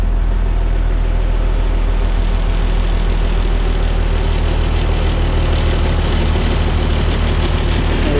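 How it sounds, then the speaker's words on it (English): A 1993 Blue Bird school bus camper's large diesel engine idles cold, steadily with a deep, continuous rumble and a rattling clatter running through it. "And we're getting rattles from the engine."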